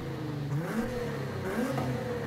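Nissan Z fitted with a sports exhaust in the racing game Forza Horizon 5, its engine revving with rising and falling pitch sweeps, loud and steady throughout with no talk.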